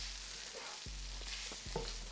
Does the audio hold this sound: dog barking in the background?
no